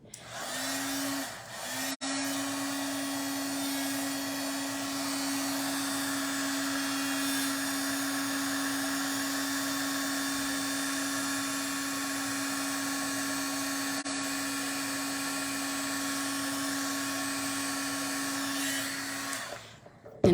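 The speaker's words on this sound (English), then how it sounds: "There will be a little noise as I heat emboss this" A heat embossing tool blows hot air over a Christmas card, a steady close whirring hiss with a constant motor whine that runs nearly twenty seconds, starting after a brief stutter and cutting off at the end.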